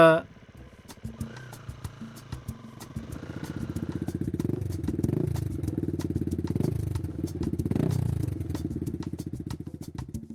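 A motorbike engine catches and settles into a steady close idle-to-running putter that swells as the vehicle pulls away, with a brief voice at the start.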